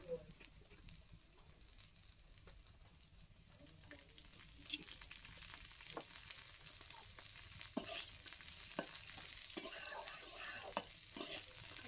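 Small tangra fish fry in oil with tender onion stalks in a pan, giving a soft, steady sizzle with scattered crackles and stirring scrapes that grow slightly busier, fairly quiet and close.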